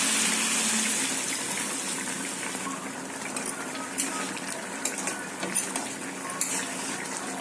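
Water poured into a pan of chicken pieces for an Odisha-style chicken and potato curry, a steady hissing gush that runs the whole time with a few soft clinks near the end, no talking.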